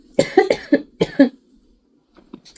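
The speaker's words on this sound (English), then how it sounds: "Excuse my cough." A short burst of several close coughs in quick succession, followed by a quiet pause and a faint sound at the end.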